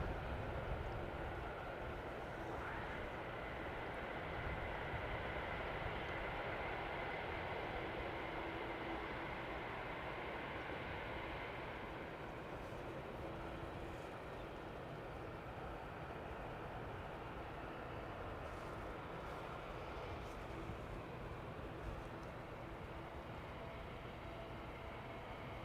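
Airliner engines at Amsterdam Schiphol Airport give a steady, broad roar that holds for the whole span, with a gradual spooling-down quality and no voices.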